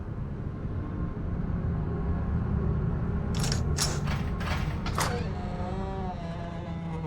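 A hotel room door creaks open by itself: a drawn-out, wavering wooden creak with a few sharp squeaking pulses in the middle, heard close over a steady low background hum.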